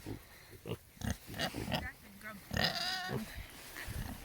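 Several close, rough grunts and oinks come from a farm pig being petted during animal chores, mixed with a person's quiet talking and laughter.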